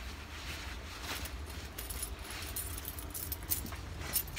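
Keys jingle faintly and irregularly against a dull background rumble, with a few brighter metallic clinks near the end and no one speaking.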